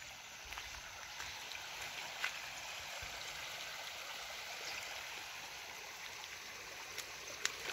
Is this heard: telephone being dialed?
no